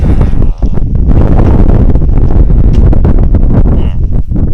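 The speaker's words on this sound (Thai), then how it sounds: "เดี๋ยวผมปรับพัดลมแป๊บนึงนะ" Electric fan blowing straight into a close microphone, giving a loud, continuous roaring rumble of buffeting air with a brief dip in the middle and no speech over it.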